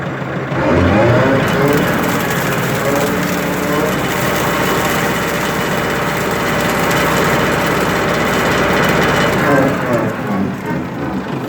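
A Kubota L4701 tractor's engine runs steadily and loudly up close, a constant droning rumble that holds for several seconds before easing slightly near the end.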